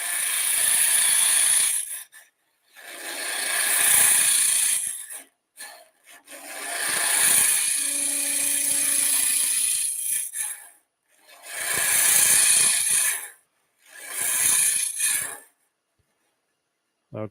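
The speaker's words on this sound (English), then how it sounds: "that's just straight scraping and hollowing with that guy" Wood lathe tool scraping and hollowing a turned piece, repeated loud rasping passes of a few seconds each separated by brief pauses, close and alone.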